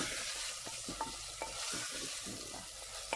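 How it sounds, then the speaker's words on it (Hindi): Chopped tomatoes get mixed into chicken in a clay pot, a soft sizzle under repeated scraping and stirring strokes of a spoon against the pot's rough sides, close and steady, with no voices. "ये डाल के हम इसको अच्छे तरीके से थोड़ा मिक्स कर लेंगे"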